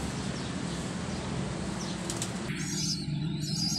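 Racing pigeons take off from a loft with a burst of flapping wings, close and fluttery over a steady outdoor background, a few faint chirps mixed in.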